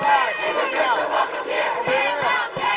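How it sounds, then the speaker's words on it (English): A large crowd shouting 'Say it loud, say it clear, immigrants are welcome here' as a rhythmic chant in unison, loud and continuous, with many voices blending together. "they're chanting, "Say it loud, say it clear, immigrants are welcome here.""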